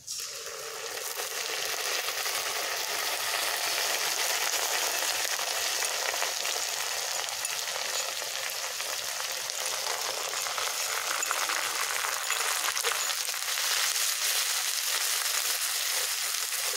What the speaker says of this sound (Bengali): কাঁচা লঙ্কাটা দিয়ে কিছুক্ষণ নাড়িয়ে নিলাম।